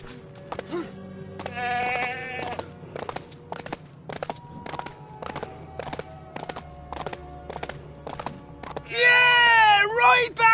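Goat bleats in Lego The Hobbit, wavering animal calls repeating near the start and a louder, longer bleat at the end, over game music with a pulsing rhythmic backing and sound effects.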